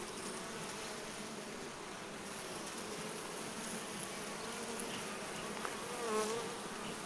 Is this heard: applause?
no